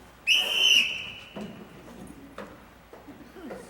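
A shrill whistle is blown once, loud and near, held for about half a second against room murmur, and a few quiet thuds and voices follow.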